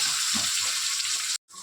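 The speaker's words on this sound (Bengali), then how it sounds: "এবার আমি একটা একটা করে সবজি আবার ভেজে নেব। তো প্রথমে আমি আলুটা দিয়ে দিচ্ছি।" Potatoes sizzle in hot oil for a Bengali shukto, a dense steady frying hiss heard up close with faint low clatter underneath, cut off by a brief moment of silence near the end before resuming.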